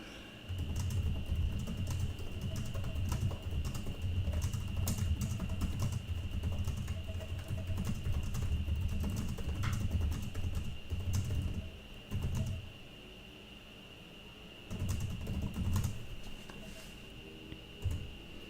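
Quick, light clicking of fingers typing on a computer keyboard to write a chat message, steady bursts with brief pauses over a faint constant hum.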